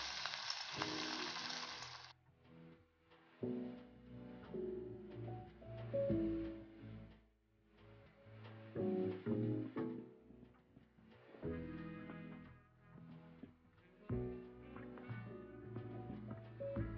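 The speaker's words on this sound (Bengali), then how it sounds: "এরপর আমি পকোড়াগুলো এর মধ্যে ভেজে নেব।" Chicken pakoras fry in hot oil in a wok. A loud bubbling sizzle fills the first couple of seconds, then music takes over with the frying lower underneath.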